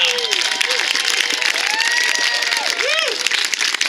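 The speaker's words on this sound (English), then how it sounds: "So give yourselves a real big round of applause right now." An outdoor crowd at the South Park Bridge dedication applauds loudly and steadily, mixed with cheers, whoops and shouting voices rising above the clapping.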